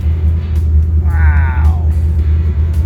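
A Corvette ZR-1 engine idles after a cold start, giving a loud, steady low rumble close by, while a voice speaks briefly over it.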